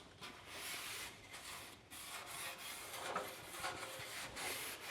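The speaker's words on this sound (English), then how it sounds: "where I'm just massaging WD-40 into the finish" Cloth rubbing WD-40 into the finish of an aluminum C10 truck grill, a steady, close scrubbing swish that runs continuously with small surges and brief pauses.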